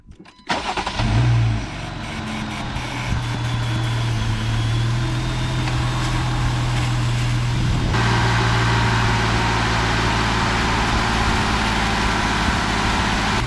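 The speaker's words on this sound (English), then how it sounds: "All right, same thing, fire it up and hold the RPMs." Jeep Wrangler engine cranks and fires, then is held at high RPM in a loud, steady roar that rises further partway through and stays running to the end.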